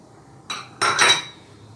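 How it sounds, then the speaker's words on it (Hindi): Milk, sugar and milk powder are stirred together in a cooking pot on the stove, giving a few sharp metallic clinks and scrapes of the spoon against the pot in quick succession. "अच्छे से इसको मिक्स कर लेना है।"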